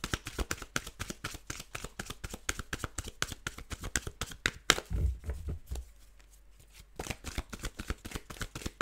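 A tarot deck is shuffled by hand in quick, rhythmic riffles of crisp card flicks, close and clear, with a brief pause midway before the shuffling resumes.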